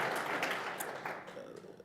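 Audience applause fills a banquet hall at an Icelandic awards and harvest celebration at Grand Hotel, a dense steady clapping that slowly thins out toward the end, with voices mixed in.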